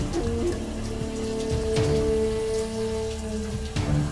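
Steady rain falls and patters on surfaces in a continuous, fairly loud wash, with no voices over it.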